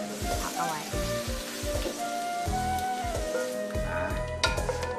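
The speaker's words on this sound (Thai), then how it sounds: "แค่ฉาดน้ำมันไม่ให้สุกมากนะครับ" Vegetables fry briefly in hot oil, sizzling steadily with a bright crackling hiss, broken by clanking kitchen sounds and low thumps, fairly close throughout.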